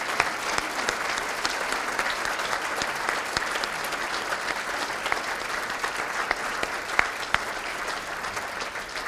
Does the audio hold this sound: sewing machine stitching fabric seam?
no